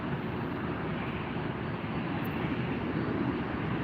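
A Delta Airlines Boeing 757-200 arriving from Seattle at LAX, a steady broad jet-engine roar that stays loud and even throughout, heard from a distance with no talking.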